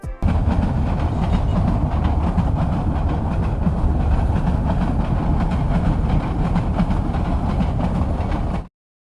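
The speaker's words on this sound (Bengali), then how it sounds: "আর ট্রেন যাচ্ছে এই দৃশ্যটা আমার কাছে খুবই ভালো লাগলো" A train passes through quiet village countryside near Pubail and Bhadun in Gazipur, Bangladesh. A loud, close, continuous rumble and rhythmic rail clatter of the carriages holds steady, then cuts off abruptly. No one speaks.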